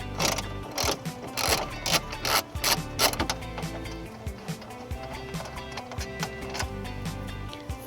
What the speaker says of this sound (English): I'm going to use a 12mm socket to remove it.